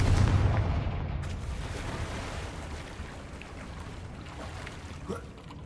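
Confringo explosive spell cast in Hogwarts Legacy, a loud booming blast at the start that fades into a long rumbling decay, with a faint thud near the end.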